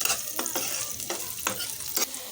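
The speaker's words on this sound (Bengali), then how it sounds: "এখন পেঁয়াজগুলোকে আমি একটু ভালো করে ভেজে নেব।" Onions fry in oil in a pan, a constant close sizzle with several scraping strokes of a spoon stirring them at a slow, uneven rhythm, no voices.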